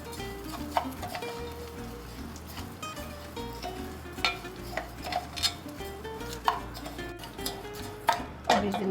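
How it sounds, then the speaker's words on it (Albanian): Rice sizzling as it fries in oil in a pot, with clinks of a utensil stirring against the metal and occasional sharp clatters of dishes, steady close kitchen noise throughout. "Po hedhim vajin për të skuqur pak orizin."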